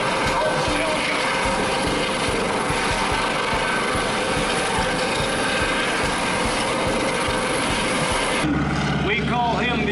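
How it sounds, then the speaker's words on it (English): A Coast Guard MH-65 helicopter at an airshow, its rotor thumping steadily with a loud turbine whine, continuous and close, before cutting to a quieter scene with background sound. "The helicopter is the MH-65 Gulf helicopter."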